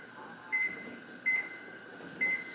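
Three short, evenly spaced electronic beeps from a kitchen timer being set while a pressure canner vents steam, each beep bright and clear above a low steady background hiss, no talking.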